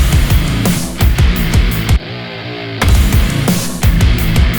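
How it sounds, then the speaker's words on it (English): A thick, distorted guitar synth plays chunky rhythmic notes, with a sustained tone that quickly bends in pitch before the pattern resumes. "And we want a nice quick pitch bend on this like that."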